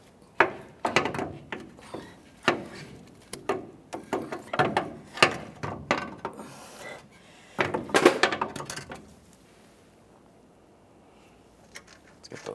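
Ratchet tightening the mounting nuts on a 2004-2008 Ford F-150 front shock absorber: bursts of quick metallic clicks in uneven runs, close by, with faint clinks and a quiet stretch at the end.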